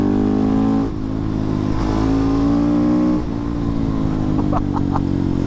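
KTM 690 SMCR single-cylinder motorcycle, heard from the rider's position: a loud engine drone rises, dips briefly during each clutch-assisted gear change, then climbs again, with wind rush throughout.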